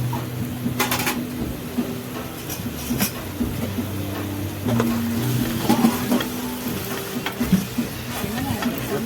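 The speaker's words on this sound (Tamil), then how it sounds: "இப்போ இஞ்சி பூண்டு பேஸ்ட்டு போட்டுக்கணும்." Ginger garlic paste sizzles in a pan for mutton biryani, a soft frying hiss broken by scraping stir strokes and clinks of a utensil, with some voice in the background.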